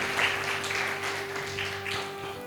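A church congregation claps in praise to Jesus, a soft, continuous patter of applause lasting a couple of seconds with a faint background hum.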